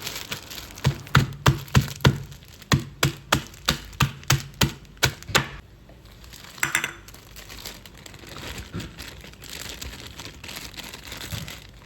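Around a dozen sharp, rhythmic thuds of garlic and shallots being pounded in a plastic bag, close by, followed by quieter rustling and handling noises.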